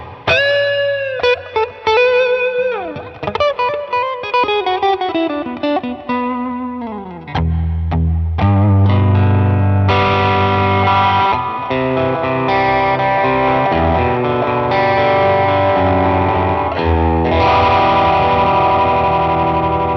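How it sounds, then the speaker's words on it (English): Electric guitar played through a Roland Blues Cube amp at a fairly high gain setting, loud and distorted, starting with bent sustained notes that ring out, then shifting to thick, continuous chords and riffs with long sustain. "fairly high gain setting there for the Bluescube"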